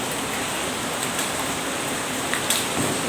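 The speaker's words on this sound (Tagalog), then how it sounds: "dito, Sobrang ulan." Heavy rain pours steadily at a resthouse, a dense, even broadband hiss with occasional louder drops and spatters, no voices.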